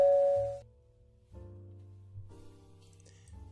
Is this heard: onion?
no